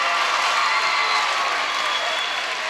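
A student cheer section at a high school boys basketball game roars and claps steadily, a dense, bright wash of crowd noise with no breaks.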